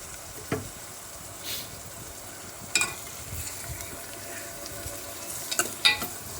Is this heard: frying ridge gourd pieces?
yes